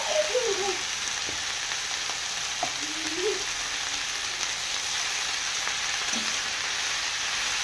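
Amaranth greens frying in a pan with kasundi mustard sauce, a loud continuous sizzle with occasional stirring scrapes and no talking.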